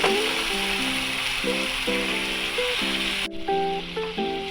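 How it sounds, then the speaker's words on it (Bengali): Sizzling of fried spices in a pan as pre-boiled hot water is poured in for a Bengali papad curry. A steady hiss runs throughout under louder melodic background music and cuts off sharply near the end. "এবার আমরা অ্যাড করব আমাদের আগের থেকে ফুটিয়ে রাখা গরম জল।"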